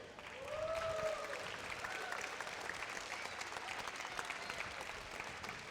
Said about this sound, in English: I hope you give them a big round of applause